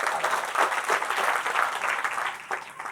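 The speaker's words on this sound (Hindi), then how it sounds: "आप सबसे निवेदन एक बार हनुमान जी के लिए ताली बजा दिया जाए।" Audience clapping for Hanuman during a Ramayana katha recital, dense continuous applause from a gathered crowd, even and sustained throughout at a fairly strong level with no talk over it.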